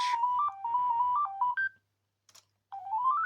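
A Sony Aibo ERS-210 robot dog plays a bright electronic melody of stepped beeps, pauses with a brief chirp, then resumes with a rising tone sweep, fairly loud and close.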